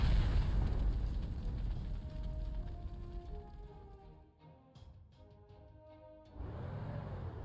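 Artillery in Panzer Corps 2 fires and shells explode with a heavy, loud roar that fades, drops to a low lull, then swells into another boom near the end.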